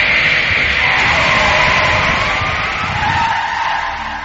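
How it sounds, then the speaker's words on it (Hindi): A car's tyre gives out on a rough, broken road at night, followed by a loud sustained skidding screech with a rumbling undertone that fades slightly toward the end, with no voices. "उतर के देखा तो गाड़ी का एक टायर पंचर हो गया था।"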